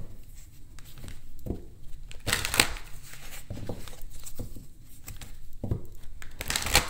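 Oracle cards are handled and shuffled in repeated papery riffles and slaps, crisp and close, with steady soft rustling between bursts and no talking.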